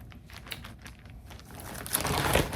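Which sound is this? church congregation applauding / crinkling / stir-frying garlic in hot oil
crinkling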